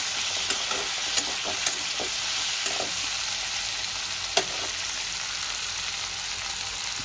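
Potato and capsicum curry being stirred in a pan with salt and turmeric, a steady close sizzle with a few sharp scraping clicks of the spoon scattered through it.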